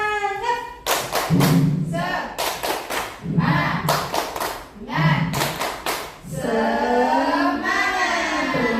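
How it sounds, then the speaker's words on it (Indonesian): A group of women claps a rhythmic tepuk semangat cheer in a school classroom, with bursts of hand claps in patterned sets and chanted voices between them. "kita tepuk semangat dulu ya Bu. Tepuk semangat"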